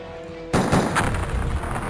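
A mortar fires in the OpenXCOM video game, a single sudden loud boom followed by a sustained rumbling tail.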